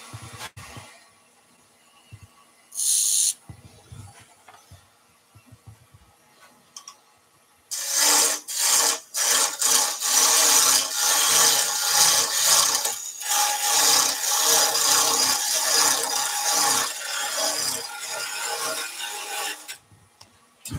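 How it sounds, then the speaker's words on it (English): A wood lathe turns a tenon under a beading and parting tool, beginning with quiet clicks and brief scraping, then a loud continuous cutting rasp with rhythmic rubbing pulses for the last thirteen seconds. "I'm just going to put a little tenon on that with the beading and parting tool."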